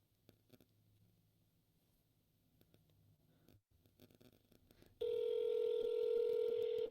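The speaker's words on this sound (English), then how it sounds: "Can you hear the phone ringing?" After a few seconds of quiet room noise with faint taps, a loud electronic telephone ring starts and sounds steadily to the end.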